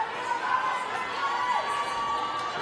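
A crowd cheers at the Burn Boot Camp Athlete Games fitness competition finals, with dense, steady shouting and whoops all the way through.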